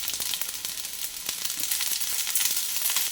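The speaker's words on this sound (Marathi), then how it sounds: "रात्रीचा जो भात शिल्लक होतो मस्त असा इथं ताव्यावरती परतलेला आहे." Leftover rice fries on a hot tawa with cumin, mustard seeds, turmeric and chili powder, giving a close, continuous sizzle with small crackling pops and no talking.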